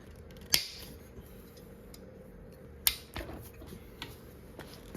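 An Allen wrench cracks Harley-Davidson rocker box cover bolts loose during a top end rebuild, giving two sharp metallic snaps a couple of seconds apart plus lighter clicks over a low workshop hum.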